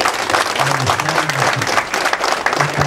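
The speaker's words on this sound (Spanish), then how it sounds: "Le damos un fuerte aplauso a Miguelito" Crowd applause honoring the patron saint San Miguel Arcángel at a village patronal fest in Chaccrampa, a steady dense clapping throughout with a faint low hum or voice underneath.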